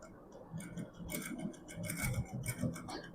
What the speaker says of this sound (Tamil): பாருங்கள், இந்த இடத்துல வந்துட்டு நான் ஸ்டிச் பண்ணுறேன்.